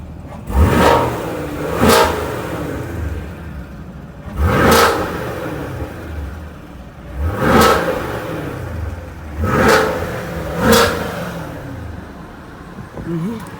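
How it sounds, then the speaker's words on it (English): A 2019 Chevrolet Camaro SS exhaust revs loudly in five sharp bursts, each rising roar falling back to a rumbling idle between them. "Pipes are really loud."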